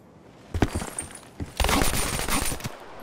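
Gunfire in Black Ops 3 search-and-destroy play: bursts of rapid automatic shots, a short volley, a pause, then a longer sustained loud burst, close up.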